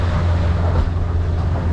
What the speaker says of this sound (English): Whoa, windy out.